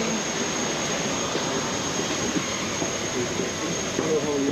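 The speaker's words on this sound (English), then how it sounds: "Just a plane." Steady broadband jet engine roar from an airliner, the Cathay Pacific A350, a continuous loud drone with no distinct events, heard from inside the aircraft cabin.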